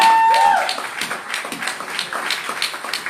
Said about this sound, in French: Est-ce qu'on peut se tenir debout pour acclamer le Seigneur?